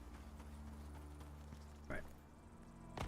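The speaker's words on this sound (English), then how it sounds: "Oh, it's horses." Horses' hooves clip-clop at a walking pace in the Icarus video game, faint and somewhat distant beneath a low steady hum, with a brief louder thump near the end.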